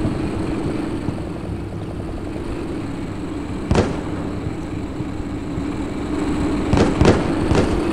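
Explosions and enemy fire in the war game Combat Mission Shock Force, with a low continuous battlefield rumble broken by one sharp blast and then a quick cluster of two or three more.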